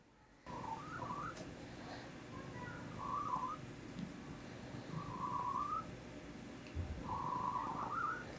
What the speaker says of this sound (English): It sounds like he's whistling.